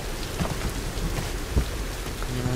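Steady rain hisses through a rainy-season scene in the video game Tomb Raider, with a soft low rumble and a few heavier drops, continuous and fairly close throughout, with no voices.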